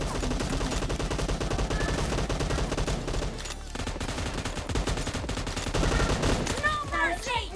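Rapid gunfire from various in-game weapons in PUBG Mobile, including SMG, assault rifle, M16A4, DMR and bolt-action rifle, crackles in dense bursts throughout, loud and near, with a short lull midway and game sounds on top.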